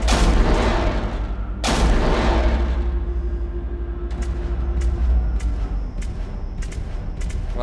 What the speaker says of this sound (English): we got torpedoes going into him right now